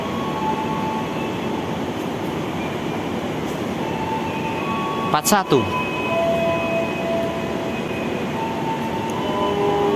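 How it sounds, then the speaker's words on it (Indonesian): Motis Nataru passenger train departing Purwokerto station, a continuous rumble of rolling stock with a brief sharp squealing burst midway; a voice speaks briefly over it. "Kita lihat proses keberangkatan kereta api Motis Nataru dari stasiun Purwokerto."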